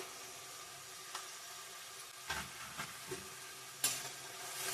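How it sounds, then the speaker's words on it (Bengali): Ground coriander, cumin and chili powder sizzle softly in a pan while being fried for a banana flower and prawn curry, with a steady frying hiss and intermittent scraping stirs from a spatula. "ভালো করে কষিয়ে নেবো মশলাটা"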